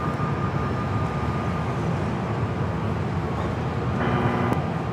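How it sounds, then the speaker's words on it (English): A United Boeing 777 airliner comes in to land from Newark at Los Angeles airport, a steady broad low jet roar heard from a distance, holding level throughout with a faint tonal whine near the end. "United 777 coming in from Newark"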